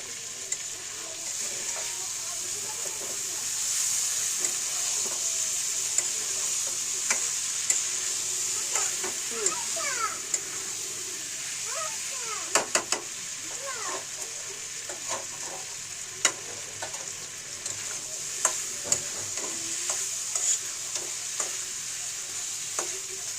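Boiled taro stolons (loti) fry with dried fish in a steady, moderate sizzle. Frequent light clicks and scrapes of stirring run throughout, close by, with no talking.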